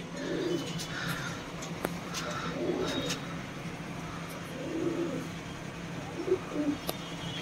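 Soft, low coos from a pair of imported Salary Teddy pigeons recur in short phrases over a steady background hum, with occasional faint ticks and rustles.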